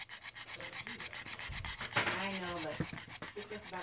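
A girl pug panting rapidly and steadily, close and fairly loud, with soft whimpery breaths and people talking faintly in the background.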